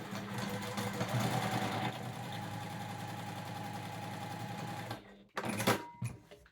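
A sewing machine back stitches a fabric tissue basket, a fast steady mechanical whirring and clatter running continuously before stopping, followed by a few short bursts of stitching.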